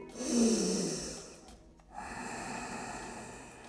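Deep, slow breathing during a yoga session focused on planks, with a long audible inhale followed by a softer, airy breath, close and quiet with no talk.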